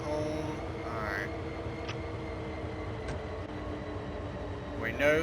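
GP38 diesel locomotive engines in Train Sim World 5 hum steadily at low idle, with a constant low drone and faint brief tones, rising slightly at the end.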